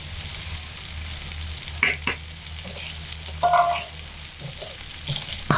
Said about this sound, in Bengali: তেলের মধ্যে ডালগুলো দিয়ে লাল লাল করে ভেজে নেবো